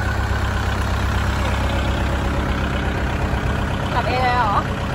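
A tractor engine idles and rumbles steadily in a cassava field, a constant low drone filling the whole stretch, with a brief voice-like warble rising near the end over the motor.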